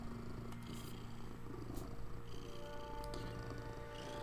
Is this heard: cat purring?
yes